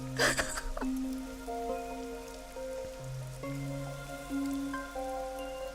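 Rain falling in Master Detective Archives: Rain Code, a soft steady patter heard beneath sustained tonal music notes, fairly quiet and continuous with no talking.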